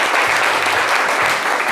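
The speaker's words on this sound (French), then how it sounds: "On peut l'applaudir très fort." Loud, dense applause from a live audience at a French talk show, a steady wash of clapping held at even volume without a break through the short stretch.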